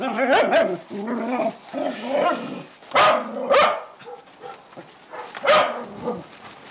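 A dog barks repeatedly in loud, close, irregular bursts, with some whiny yelps mixed in and short pauses between the barks.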